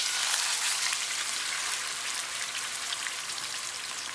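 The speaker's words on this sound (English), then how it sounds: "Now you're going to hear a big sizzle." Loud, dense crackling hiss of brisket frying in hot oil, steady and close throughout with no voices.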